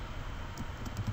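Quiet typing on a computer keyboard, with a few soft key clicks over a steady low hum during Office 365 software use.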